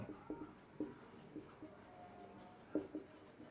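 A momentum formula written by hand with pen on paper or a board, heard as faint, scattered scratchy strokes and taps, quiet and close, with no talking.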